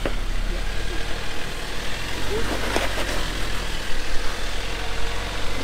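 A four-cylinder turbo RAM truck engine crawls up a rock on a Moab off-road trail, a steady low rumble with strong wind noise, and people speak over it.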